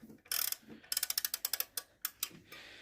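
A ratchet wrench works on the front hub of a Land Rover Discovery 2 Td5, giving a close series of sharp metallic clicks in quick bursts with short pauses between strokes.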